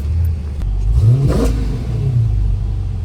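A Dodge Challenger Scat Pack V8 revs up sharply in one rising roar close by, then settles back into a deep, steady idle rumble.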